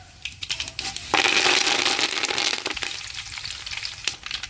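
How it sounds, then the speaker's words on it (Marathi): Curry leaves dropped into hot oil for tempering in a pot over a wood-fired stove, a burst of loud, bright sizzling crackle that stays steady and dense, with scattered pops and spits. "आता आपण याच्यामध्ये कढीपत्ता घालूया."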